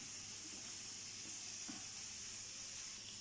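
Small chicken pieces frying with masala in a pan, a faint steady sizzle and hiss that runs evenly throughout without a pause.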